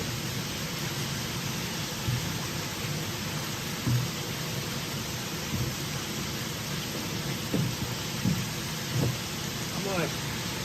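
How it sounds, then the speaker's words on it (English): Steady rain hisses continuously at a moderate level, a constant wash of noise with a few soft low thumps mixed in. "Still pouring down rain."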